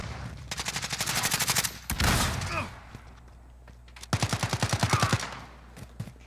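Automatic gunfire in the video game Modern Warfare rattles out in two rapid bursts separated by a single heavy shot and a pause, loud and close, with quieter scattered shots trailing at the end.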